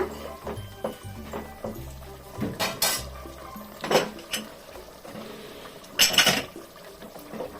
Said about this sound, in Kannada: ನೋಡಿ ಕುದಿತಾ ಇದೆ.